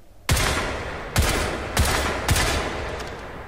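Four loud, close gunshots from Crysis 3 ring out at roughly even spacing, each a sharp boom with a long echoing tail.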